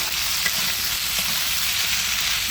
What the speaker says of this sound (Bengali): এই তো একটু সময় নিয়ে খুব সুন্দর করে ভাজা নিচ্ছি।